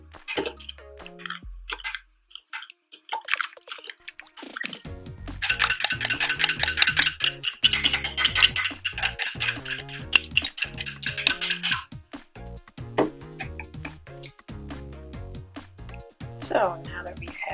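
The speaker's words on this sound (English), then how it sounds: "We're going to want to try to mix it a little bit more." Homemade gummy mixture stirred in a bowl, a rapid rhythmic scraping and clinking of a utensil against the bowl that grows busier midway and then thins out, under a voice explaining.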